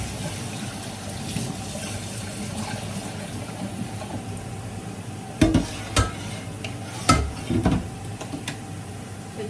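Cooked macaroni being drained in a kitchen, a steady low hiss of running water and steam, broken by a few sharp clanks and knocks of the pot and colander.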